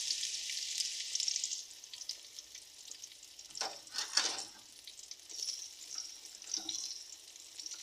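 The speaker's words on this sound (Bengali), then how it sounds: "আমি এর ভিতরে তেল দিয়ে দিলাম এখন আমি পেঁয়াজ কুচি দিয়ে দিলাম" Chopped onions fry in oil in a pan after cauliflower, producing a steady, moderately faint sizzle with a few louder bursts of stirring and spattering.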